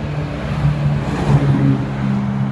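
A garbage truck rolls past outside, a steady low engine rumble with drifting tonal hum, moderately loud and fairly even throughout with no voices.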